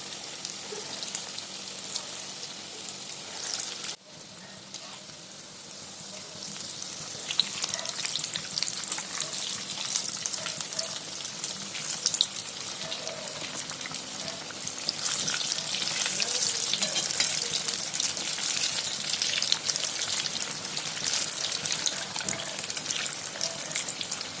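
Dal vadas deep-frying in hot oil over a medium-low flame, a dense continuous sizzle and crackle that briefly dips early on, then builds louder and fuller, with no talk.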